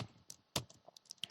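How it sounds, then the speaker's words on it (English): Quick, uneven bursts of keystrokes on a computer keyboard while typing Python code, close and fairly quiet, with no talk. "I will just type in print"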